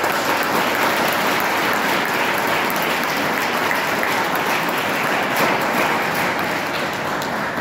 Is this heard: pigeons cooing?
no